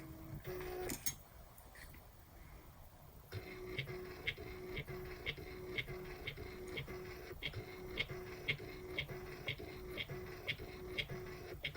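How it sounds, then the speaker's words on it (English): A small Nelko PP01 photo printer whirs and ticks in a steady, regular rhythm, its mechanism clicking repeatedly as paper feeds through, close and fairly quiet. "And you can hear it printing just like when you print with an inkjet printer"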